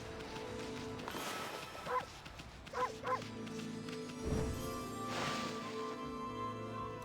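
A cartoon dog barks in the video game Okami, triggered by a button press: a few short yips spaced a second or so apart over steady game music.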